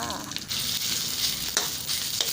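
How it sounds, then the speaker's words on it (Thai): Thai curry paste sizzles and crackles steadily in a little hot oil, with brief scraping stirs breaking through the bright frying hiss. "เติมพริกแกงลงไปผัดเลยจ้า"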